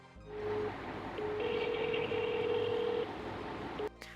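Landline telephone dialing indoors: a short tone, then a longer run of steady paired dialing tones lasting about two seconds over a constant background hum, ending with a brief click.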